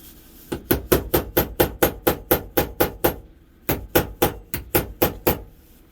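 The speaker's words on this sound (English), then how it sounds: "we'll try tapping it with a with the whatchamacallit there, with the brass hammer" A brass hammer taps a Honda Z50 motorcycle part on a workbench in a fast, even run of crisp metallic knocks, pausing briefly before a second burst of blows.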